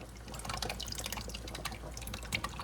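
Beef broth is poured onto drained hamburger meat in a pan while making lasagna, giving a faint, steady liquid splashing and trickling with small dripping ticks, close but quiet, with no voices.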